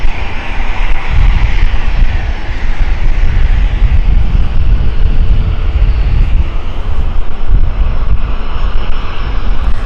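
A plane climbing away from London City Airport produces a loud, continuous engine roar with heavy low rumble, steady throughout with no voices.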